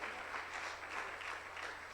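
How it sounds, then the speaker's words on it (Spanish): Church congregation clapping their hands, a fairly quiet, rhythmic patter of many hands with a gentle pulse, heard at a distance over a low hum. "Dale palmas al Señor."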